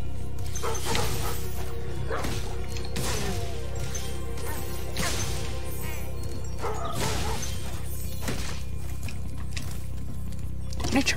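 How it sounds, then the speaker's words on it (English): Dogs in Spyro Reignited Trilogy barking and yipping in repeated sharp bursts, mixed with game impact hits and whimpers over a steady background music bed, loud and close. "These dogs are evil! They're adorable,"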